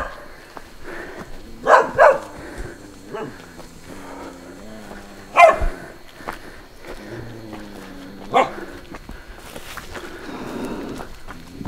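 A dog barks several times in the distance near a forest home, sharp short bursts around the two, five and eight second marks over outdoor background noise, with people talking intermittently.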